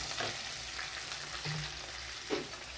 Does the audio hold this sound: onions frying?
yes